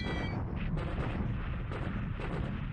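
A bombing run striking a runway in a World War II Pacific war game, Japan against the Allies in December 1941, heard as a rumbling string of heavy, overlapping explosions that stays steady and booming throughout.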